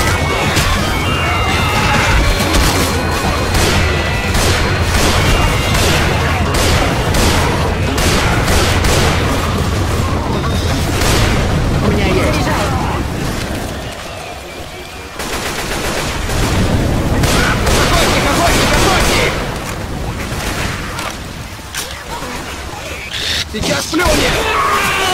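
Rapid bursts of gunfire in Left 4 Dead 2 crackle almost continuously, with loud impacts and booms, while voices talk over the action.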